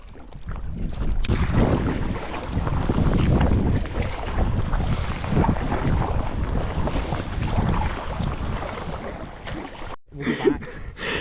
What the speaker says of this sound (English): We're paddling to Skye.